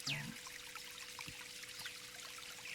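Flowing stream water in a Unity HDRP forest environment demo with a waterfall, a faint steady trickle and pour beneath soft ambient tones.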